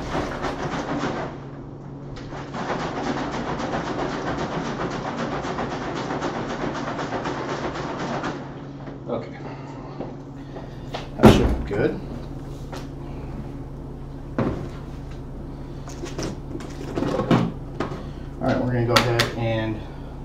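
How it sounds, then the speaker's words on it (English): Sanitizer solution sloshes as a Mr. Beer brewing keg is shaken, a steady rushing churn for several seconds, then scattered knocks and clunks of the plastic keg while a person talks. "let me go ahead and shake a little bit more because it's still kind of solid in there"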